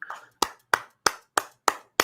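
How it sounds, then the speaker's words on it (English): One person claps alone, six or seven crisp, evenly spaced hand claps close to the microphone with clean silence between each. "I'm going to clap on behalf of the audience"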